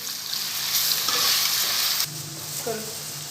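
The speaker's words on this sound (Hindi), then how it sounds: "अब मैं डालूंगी इसमें लहसुन का पेस्ट और इसको फ्राई कर लूँगी।" Onion and garlic paste frying in a pan, a loud dense sizzle with stirring that drops suddenly midway to a quieter hiss with a few clinks, close up and without speech.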